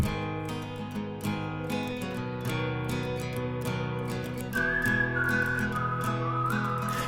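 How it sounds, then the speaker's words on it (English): Melodic whistling with acoustic guitar in a folk pop production, layered over a steady full mix with sustained pads and bass; the whistle line enters clearly about halfway through and carries on to the end. "when I add my whistle and my guitar in"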